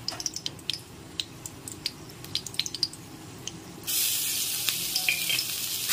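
Ginger paste dropped into hot oil in a pan with fried whole spices, giving a sudden loud, steady sizzle after a few scattered crackles and pops, with no one talking.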